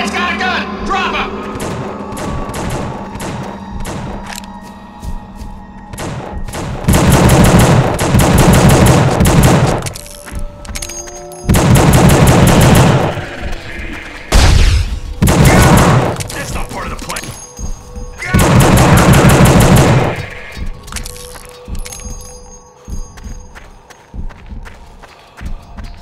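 Gunfire from the prison shooter game The Suffering, with several loud bursts of rapid automatic fire and single shots breaking through a busy background of in-game voices and ambient noise.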